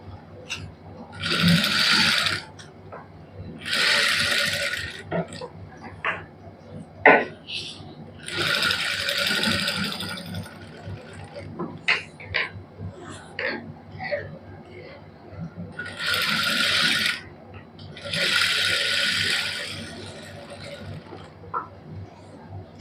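Sewing machine stitching lace onto a garment neckline, running in several sustained bursts of whirring stitching separated by pauses, with a person talking in between the runs.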